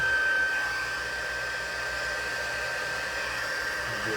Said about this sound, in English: I'll grab my heat tool and heat this up.